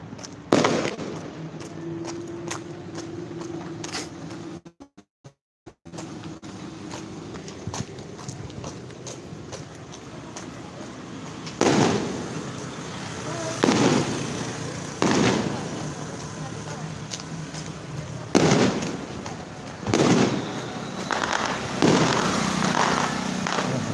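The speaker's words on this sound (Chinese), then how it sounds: "你看，放鞭炮放。" Firecrackers are set off during a Taiwanese temple procession, sounding as repeated bursts of rapid crackling over steady street noise, with people talking nearby.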